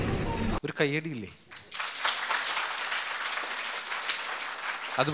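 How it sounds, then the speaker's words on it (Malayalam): A voice speaks briefly, then applause from an audience breaks out and continues steadily to the end. "ഒരു കയ്യടിയില്ലേ,"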